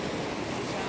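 The Neelum River in the mountains of Kashmir flows with a steady broad rushing of water, close and continuous through the whole short moment.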